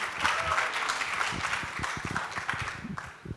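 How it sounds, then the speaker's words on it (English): A conference audience gives a modest round of applause, a moderate spread of clapping hands at a middling distance that continues steadily and begins to thin toward the end. "Please give a round of applause for HelloEOS."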